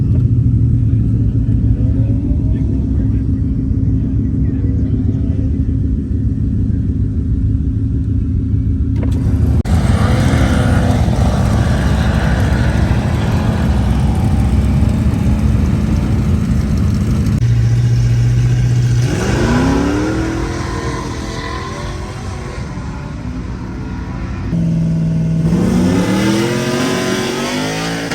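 A twin-turbo Ford F-150 pickup engine rumbles loudly at a drag strip and revs up through several rising shifts, gear changes audible, the roar fading slightly as it pulls away.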